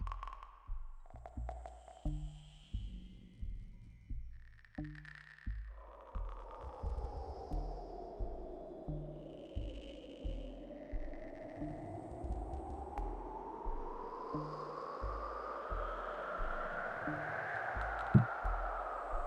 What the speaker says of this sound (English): And so I have filtered noise with some reverb on it.